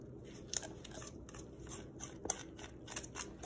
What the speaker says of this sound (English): you're going to need like a kitchen scissors